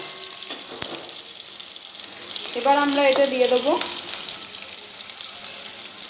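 Green chillies fry in a pan of hot oil, giving a steady close sizzle throughout while someone speaks briefly over it in the middle.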